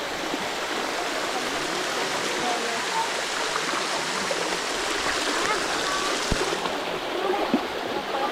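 Steady rushing water from the Sticky Waterfall near Chiang Mai, Thailand, a continuous broadband roar with occasional small splashes and drips nearby.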